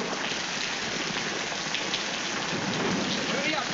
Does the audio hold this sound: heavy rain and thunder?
yes